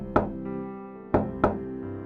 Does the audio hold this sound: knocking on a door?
yes